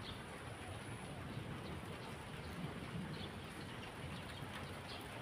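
Steady rainfall on an afternoon in Taiwan, a faint, even hiss of drops that continues without a break through the whole stretch.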